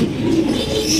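A Roman pigeon gives a brief, close, low coo lasting about a second against a soft background.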